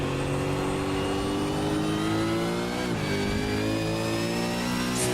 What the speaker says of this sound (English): Screaming engine through this corner.